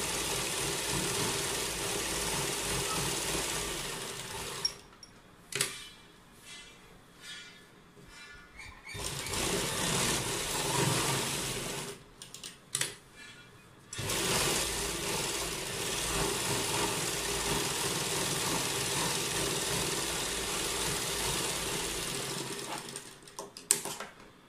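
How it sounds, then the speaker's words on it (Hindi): A sewing machine stitches lace onto a Punjabi suit in several steady, rapid whirring runs separated by short pauses, close and clear with faint handling sounds in between. "अब हम नीचे की तरफ सिलाई लगा देंगे।"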